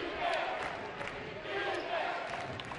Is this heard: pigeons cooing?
no